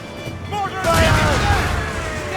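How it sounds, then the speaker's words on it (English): Mortar fire from a naval battle in Assassin's Creed Rogue: a loud, booming burst of cannon-like blasts swells in about a second in and rumbles on, with shouted voices heard over it. "Mortar!"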